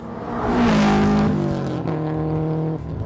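A tuned Subaru STI with a JDM EJ20K engine revs hard, a loud close rising then holding roar of about three seconds before cutting off.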